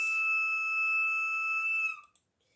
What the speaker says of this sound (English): I really need to change this whistle.